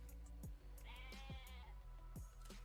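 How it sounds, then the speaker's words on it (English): Sheep bleating in the Civilization strategy game, a single animal's wavering bleats layered over a steady game soundtrack with repeated plucked and percussive notes. "No, it's just one sheep."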